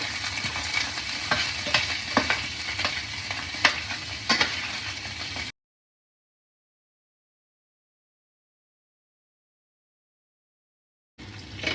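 Garlic short ribs sauté in a pan over medium-low heat, a close, even sizzle with quick stirring clicks, cutting to silence midway before the frying briefly returns.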